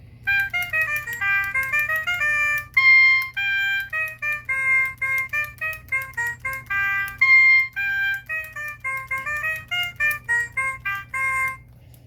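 An Otamatone plays a bright, wavering electronic melody of quick, bouncy notes, close and fairly loud, running continuously with no talking over it.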